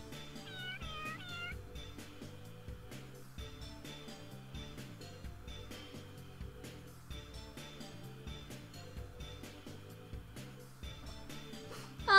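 Cat meows from the video game Persona 2: Innocent Sin, a few quick mews near the start over looping game music and ambient effects, faint and fairly close, with no talking.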